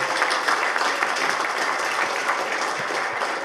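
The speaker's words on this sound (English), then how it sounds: "Big round of applause for Tony Gattari, guys" Audience applause for a presenter at the close of a session, a dense, steady wash of many hands clapping that fills the room evenly from start to finish.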